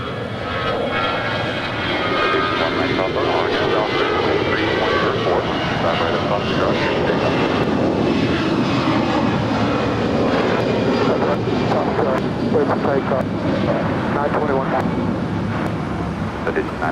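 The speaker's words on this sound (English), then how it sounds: "This is Alaska Airlines 113 departing to Seattle. It's an A320." An Alaska Airlines Airbus A320 jet departing LAX for Seattle, its engines a loud, sustained roar that swells and holds throughout, heard outdoors with some wind buffeting the microphone.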